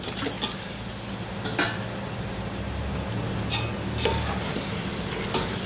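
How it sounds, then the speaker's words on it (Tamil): Chicken pieces stir-fried with masala in a pan for dum biryani: a steady sizzle and crackle of frying with occasional scraping stirs of the spatula, close and continuous, no talking. "கறி வந்து இந்த மசாலாவோடு சேர்த்து நல்லா வறுத்துக்கணும்"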